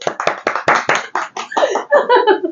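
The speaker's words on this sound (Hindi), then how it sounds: "तालियां इस बात के लिए" Applause in a studio talk show, a handful of close, distinct claps in uneven bursts, fairly loud, mixed with voices and possible laughter toward the end.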